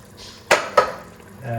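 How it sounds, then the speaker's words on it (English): Diced tomato and lentils tipped into a pot of chicken and lentil soup give two sharp clattering impacts close by, followed by a soft low rumble of the food settling. "I'm going to add our diced tomato here"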